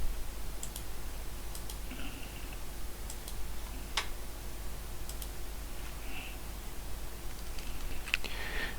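Sparse, sharp computer mouse clicks at a desk while working in FreeCAD, single and paired taps scattered over a faint steady hum.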